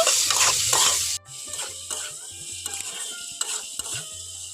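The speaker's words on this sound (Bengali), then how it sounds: "লবণ দিয়ে দিচ্ছি সামান্য একটু হলুদ খুব ভালো করে এটা তেলের মধ্যে ভেজে নেব" Potatoes fry in oil with salt and turmeric, a loud sizzle at first that drops off abruptly, then quieter rattling and clicking from stirring in the pan.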